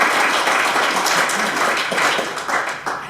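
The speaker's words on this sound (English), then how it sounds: "A round of applause for the panel." Audience applause for a panel at the close of a debate session, steady broadband clapping filling the whole clip at a fairly loud, even level without talk over it.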